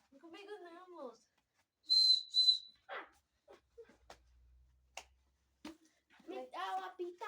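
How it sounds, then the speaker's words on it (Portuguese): Two short, sharp blasts of a whistle at a Patati Patatá event in a public square, coming between bits of speech and a few light taps. "Me dá o apito agora."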